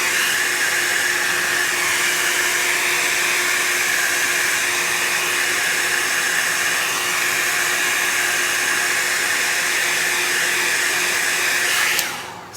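A hair dryer blows alcohol ink across artwork, a steady loud whooshing whine that runs continuously and cuts off near the end.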